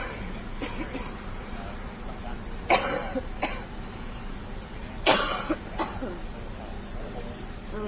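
Two loud, close coughs a couple of seconds apart, each followed by a smaller cough or throat sound, over a quiet room hum.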